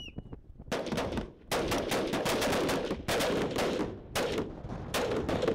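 Combat weapons fire at a shooting range during Estonian Defence League training, rapid bursts of loud, close gunshots in repeated volleys with short pauses between them, with no voices.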